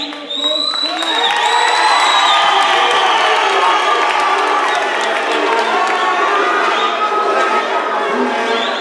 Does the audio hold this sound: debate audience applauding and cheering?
yes